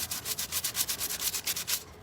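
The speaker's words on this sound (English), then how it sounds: "Sanding is a lot of work." Hand sanding with sandpaper on a table makes about a dozen brisk, evenly spaced rasping strokes, close and fairly quiet, with no one talking.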